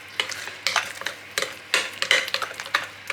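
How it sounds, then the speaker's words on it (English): A spoon stirring a mixture seasoned with dried oregano, producing a series of close, wet scraping strokes in an irregular rhythm against the bowl, with no voices. "Give that all a good stir and let everything get to know each other"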